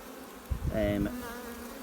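A steady, faint honeybee drone hums throughout at a swarming hive, with a brief louder buzz passing close by midway.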